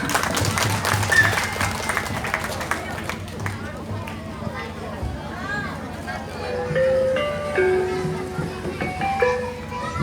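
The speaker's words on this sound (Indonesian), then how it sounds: "Monggo, tepuk tangan sekali lagi yang meriah." Applause from the crowd at a primary school farewell ceremony for sixth graders, loud at first and then fading into a noisy hall of children's chatter and movement, with someone speaking over it.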